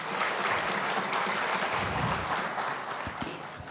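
Conference attendees applaud one another at the close of the State of Internet Freedom in Africa 2025 launch, with a steady wash of clapping that holds throughout and tapers slightly at the end.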